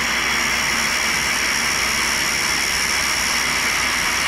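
A 6-inch, 100-grit diamond saw wheel grinds a damaged carbide endmill, producing a steady, loud, high-pitched whine and hiss with no break.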